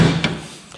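A Land Rover Series 1 door bangs shut once, a short, close metallic knock with a brief ringing decay, heard alone.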